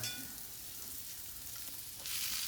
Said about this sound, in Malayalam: ചീരക്കുള്ള ഇതാ അരിഞ്ഞു വെച്ചത് അത് വഴറ്റിയെടുക്കാം